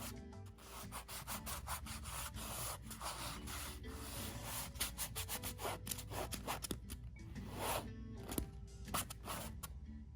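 Something rubs repeatedly across a rough, sandpaper-like textured sketchbook page, giving dense scratchy strokes in a steady back-and-forth rhythm, close and continuous for about ten seconds with no talking.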